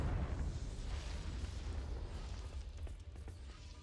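Confringo explosive spell cast in Hogwarts Legacy, heard as a heavy low rumbling boom that rolls on and slowly fades over several seconds, loud and with no voices.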